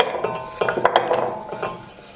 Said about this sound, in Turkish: Bal kabaklarını tencerenin içerisine alıyorum.